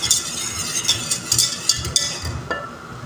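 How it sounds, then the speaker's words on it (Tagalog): A utensil stirs caramel in a pan, giving a quick series of scraping, clinking strokes, close and fairly loud, with no talking. "Haluin lang natin siya ng haluin"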